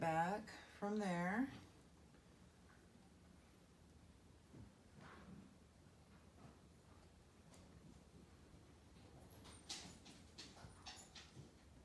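A dog indoors in a busy family house gives a short burst of wavering whines at the start, followed by quieter household sounds and people talking.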